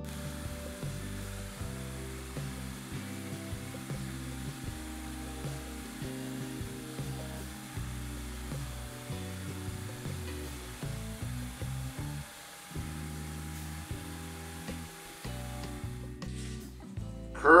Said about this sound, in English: Now I'm going to hollow on the inside, match up the curve that's coming from the ring below the top ring.